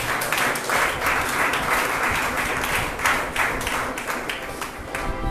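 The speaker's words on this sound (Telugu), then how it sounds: "మనమందరూ కూడా ఒకసారి చప్పట్లు కొట్టి దేవుని ఘనపరచుదాం" A church congregation claps together in sustained, dense applause at a prayer service, steady and loud throughout with no pauses.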